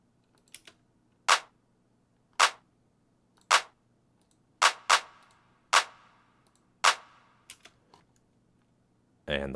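Dry layered clap samples in an FL Studio G-funk beat, without reverb: a series of crisp, evenly spaced snaps about once a second, each cut off quickly with little tail, with a few softer ticks between.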